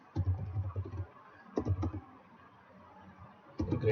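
Bursts of typing on a computer keyboard while entering Python code in Visual Studio, two short clusters of keystrokes separated by pauses, fairly close and alone without talk.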